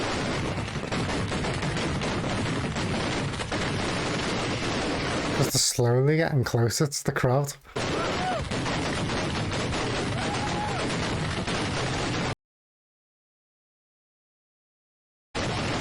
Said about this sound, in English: How many fireworks have they put on the ground?